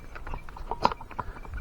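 Horses' hooves clip-clop on a road, a few quick, fairly faint hoofbeats in an uneven rhythm against a low background.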